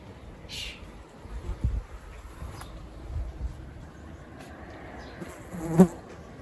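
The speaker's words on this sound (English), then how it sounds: "Some good bees. Lots of carver bees here." Soft buzzing of carder bees drifts through a quiet outdoor forest garden in far north Scotland, rising briefly as a bee passes close, with faint background rustle.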